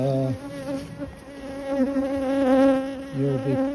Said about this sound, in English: if you look on the surface here, you can see wasps